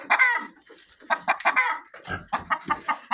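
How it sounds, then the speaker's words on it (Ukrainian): Chickens calling in a farmyard near a brooding hen, with a rooster's voice among them, in a string of close, short, raspy clucks and calls in bursts. "Але взаді тільки чую в мене півеньку."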